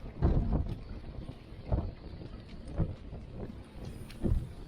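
Strong wind buffeting a microphone at a marina during a windstorm, coming in loud rumbling gusts roughly once a second or so, with steady blustery noise between them.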